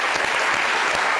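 Studio audience at a French talk show breaks into steady, dense applause, close and sustained without a break.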